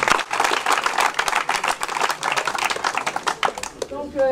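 An audience at a tribute event for Jules Mougin applauds the postman loudly and densely, a close burst of many hands clapping together, with a voice talking briefly over the end.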